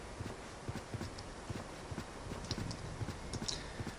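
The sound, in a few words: horse hooves while riding in video game EverQuest 2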